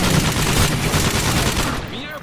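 Rapid automatic gunfire in Call of Duty Modern Warfare 3 Spec Ops survival, a dense burst of loud shots that stops abruptly near the end, with a faint voice under it.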